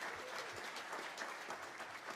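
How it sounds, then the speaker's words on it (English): Audience clapping for a high school bassist introduced in a youth jazz band, a brief, soft, steady patter of applause. "Round of applause for Dallin."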